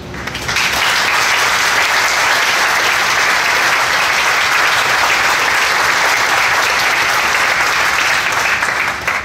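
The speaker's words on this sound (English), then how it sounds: "I'd like to give a round of applause to, to all of those committee members" A large audience at a presentation applauds steadily, a dense, loud wash of clapping that holds evenly from start to finish with no voices on top.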